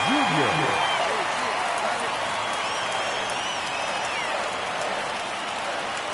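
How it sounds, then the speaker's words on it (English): A baseball stadium crowd in the video game MLB The Show 23, during a Road to the Show Braves game, makes a continuous roar and cheer that stays close and loud throughout, with some whistle-like tones on top. "you can feel this crowd waking up a bit here"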